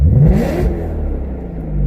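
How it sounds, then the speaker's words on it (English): A BMW E92 M3 fitted with an ACM muffler exhaust revs loudly and up close, a strong deep engine note rising and holding steady throughout with no talking. "it just sounds like a nice, strong car"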